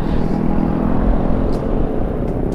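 A motorcycle with a loud exhaust rumbles nearby on a Sunday group ride, its rough, throaty roar rising slightly and then settling, with no clear voices.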